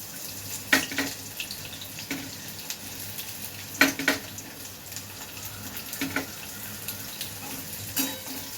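Fenugreek seeds and onion fry in hot oil with a steady, even sizzle, broken by several louder clatters and scrapes of a spoon against the pan at irregular intervals.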